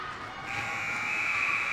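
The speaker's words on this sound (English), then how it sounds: "And that will do it for the second period as the buzzer blows." Steady electronic buzzer sounding the end of a period at a girls' varsity ice hockey game in an arena, heard at a distance under a general crowd murmur.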